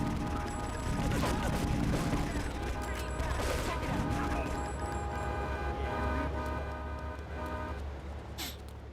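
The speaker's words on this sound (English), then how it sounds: "let me shoot some peds" Gunfire aimed at pedestrians in GTA, a dense continuous barrage of shots layered over traffic noise, car horns and crashes, loud and busy throughout with a voice talking at times.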